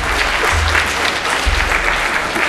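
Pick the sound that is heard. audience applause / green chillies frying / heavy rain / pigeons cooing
audience applause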